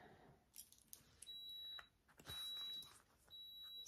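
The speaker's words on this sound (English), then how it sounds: "Sorry about the iron beeping." A clothes iron gives three high electronic beeps one after another, each held for about half a second, over faint rustling in a quiet room.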